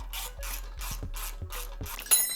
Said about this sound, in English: So I'm going to get the nuts, bolt them on here